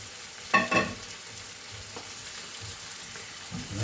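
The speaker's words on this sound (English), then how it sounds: "start stirring it around so the bacon grease kind of, you know, coats the cabbage" Shredded cabbage hitting hot bacon grease in a farm kitchen pan gives a brief loud burst of frying and stirring near the start, then settles into a quiet, steady low sizzle with a few faint scrapes.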